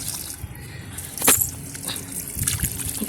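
Water sprinkled by hand onto potted plants in a sunny rooftop garden, with soft trickles and scattered splashes, one sharper splash near the middle and steadier spattering toward the end.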